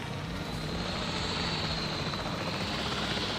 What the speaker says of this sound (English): Just crashed into the helicopter that was bringing new guests on top.